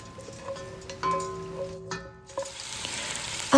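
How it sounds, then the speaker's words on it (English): Sichuan pepper and anise seeds dry-roasting in a pan, giving light crackles and scattered scraping stir strokes over a low sizzle, with a sharp clatter at the end. "After about 3 or 4 minutes of spice roasting"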